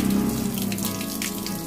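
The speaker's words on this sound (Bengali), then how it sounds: "এইগুলো এখন ধোয়া চলছে" Banana leaves being rinsed and washed in running water at an outdoor picnic, a steady splashing, tap-like flow close by and moderately loud throughout, with no voices.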